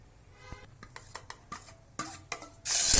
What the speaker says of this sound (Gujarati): તો સરસ મજાનો ચાટ તૈયાર કરી લઈએ મિત્રો, એટલે કે તેનો વઘાર કરી લઈએ